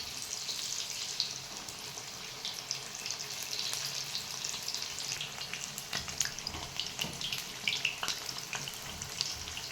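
Potato bhaji fritters fry in hot oil, giving off a steady, close crackling sizzle with scattered pops and faint stirring clatter, with no voices.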